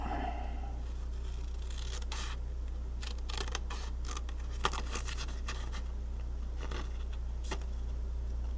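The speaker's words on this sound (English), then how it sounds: "And we'll just quickly fussy cut it." Scissors fussy-cut paper for a handmade card, giving a scattered series of small, crisp snips close by over a steady low hum, with no talking.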